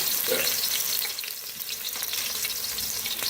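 Chopped onion and vegetables frying in hot oil make a loud, broad sizzle that eases slightly midway, steady and close with no one talking.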